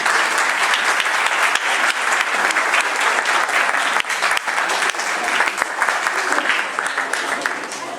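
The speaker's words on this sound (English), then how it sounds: "please clap your hands for Sir Peter Soulsby" An indoor audience at a community centre opening ceremony in Leicester claps loudly and continuously for about eight seconds, a dense, even wash of applause that tapers slightly at the end.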